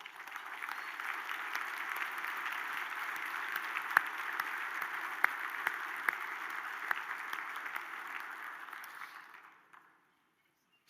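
A large room at a regional chamber of commerce annual meeting fills with steady, moderately distant applause that carries on for several seconds, then fades out near the end.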